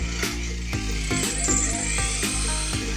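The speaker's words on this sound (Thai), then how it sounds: "ตอนนี้กำลังเจาะรูระบายน้ำนะครับ" Power drill boring drain holes into the steel frame of a Kawasaki Serpico 150 motorcycle, a loud, continuous motor whine with rhythmic clunks and shifts in pitch as the bit bites, close up.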